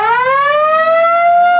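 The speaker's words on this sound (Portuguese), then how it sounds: "Sirene de tumulto" A riot siren sounds in a single loud, sustained wail that rises in pitch and then holds steady, rich in harmonics, with no voices over it.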